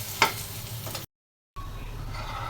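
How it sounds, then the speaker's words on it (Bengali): Fritters made from shrimp heads hiss in hot oil with a short scrape of stirring, a quiet close sizzle cut off briefly by a moment of silence before resuming. "ভাবলাম একটু বড়াটা ভাজি"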